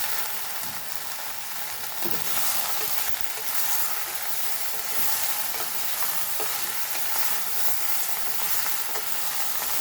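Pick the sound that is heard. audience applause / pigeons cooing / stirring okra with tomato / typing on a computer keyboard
stirring okra with tomato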